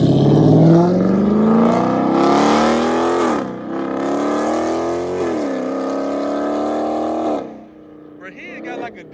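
Dodge Charger Scat Pack and Jeep SRT exhausts rev loudly up close, a deep rising engine roar that climbs, dips and surges again in strong pulls before cutting off, with brief voices at the end.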